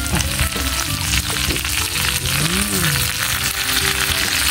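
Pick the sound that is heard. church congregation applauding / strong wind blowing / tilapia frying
tilapia frying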